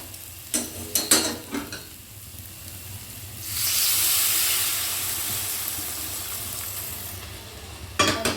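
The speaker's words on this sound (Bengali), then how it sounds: "এবারে মাংসের ভেতর গরম জলটা দিয়ে দেব।" Hot water is poured into a pan of dry-fried desi chicken, setting off a loud hissing sizzle that slowly fades. Stirring knocks and scrapes come before and after it.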